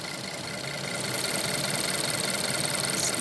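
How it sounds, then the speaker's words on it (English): High pressure direct injection fuel pump on a twin-turbo V6 Nissan GT-R, running at idle as a loud, steady mechanical ticking and whirring that rises slightly and then holds constant, with no talking. "It's a high pressure pump for the direct injection."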